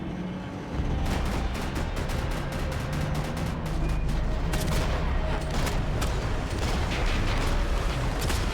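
Dense rapid gunfire crackles through a firefight in the video game Max Payne 3, a sustained volley of sharp shots and booms, loud and continuous after a brief quieter opening.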